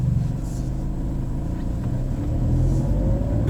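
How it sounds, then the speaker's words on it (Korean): A loud manual car's engine rumbles steadily at low speed through a narrow alley, a continuous deep drone filling the space without break. "이게 차가 시끄러운 차임에도 불구하고 잘 모르시나 봐요."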